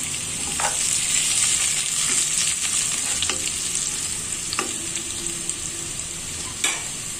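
Sliced onions frying in hot oil for Bengali masoor dal make a bright, steady sizzle. Occasional spatula taps and stirring clicks sound up close, and there is no talk.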